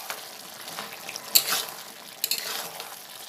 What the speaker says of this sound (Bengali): দিয়ে নুন আর চিনিটাকে এবার একটু মিশিয়ে